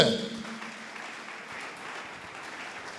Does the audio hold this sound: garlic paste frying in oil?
no